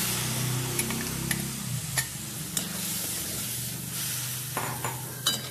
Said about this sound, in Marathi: आता आपण घेवड्याची दाणे टाकून घेऊ।